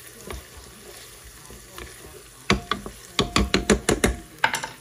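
Onions sauté in a multi-function multi-cooker with a quiet, low sizzle, then a run of sharp spoon knocks and scrapes as they are stirred.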